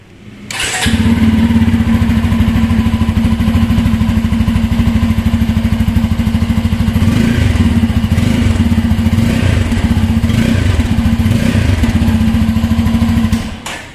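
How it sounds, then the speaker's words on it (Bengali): A Bajaj Pulsar F250 motorcycle starts up and idles with a loud, steady exhaust thrum heard close up, its low pulsing rumble holding even for several seconds before cutting off. "এবার আমরা এই বাইকটার এক্সস্ট সাউন্ডটা শুনে নিই।"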